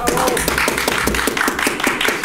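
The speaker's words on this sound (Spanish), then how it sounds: "Un aplauso para Fabricio, por favor." A studio audience applauds a guest on a Spanish-language podcast, with fast, dense, steady clapping close by that keeps up at a loud level.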